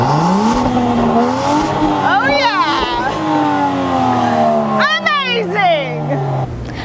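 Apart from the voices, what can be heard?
Land Rover Defender 110 SUV engine revving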